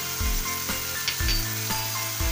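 Onion paste, coriander and cumin powder, poppy seed paste and green chili paste fry in a pan for a Bengali-style mullu tangra fish dish, sizzling steadily with repeated rhythmic bursts from stirring, close and clear, with no talking.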